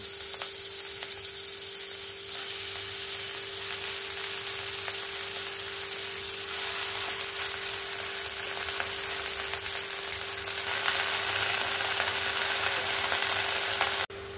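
Chopped bottle gourd greens added to hot oil where shrimp has just fried, giving a dense, even hiss of frying that runs close and unbroken throughout, with faint stirring and no speech.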